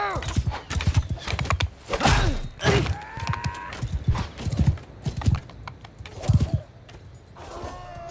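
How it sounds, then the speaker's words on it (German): Horse hooves clatter in the video game Mount & Blade 2 Bannerlord, with repeated loud, uneven clip-clop bursts that come close, a whinny or two, and voices breaking in between. "Pferdchen."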